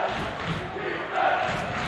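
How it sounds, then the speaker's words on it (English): High school boys basketball crowd at a Webster Thomas home game, the student section roaring in a steady mass of voices that swells briefly in the middle, with no single speaker standing out. "And that's all it took to get this Thomas crowd going."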